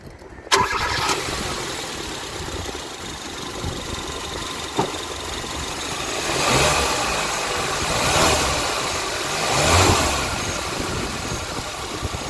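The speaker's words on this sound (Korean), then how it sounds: "엔진 소리 한번 들어볼까요? 네. 시동 한번 켜보도록 할게요" A 2014 Hyundai Accent 1.6 engine cranks with a short burst of starter noise, then catches and settles into a steady, quiet idle that swells slightly a few times, with no talking.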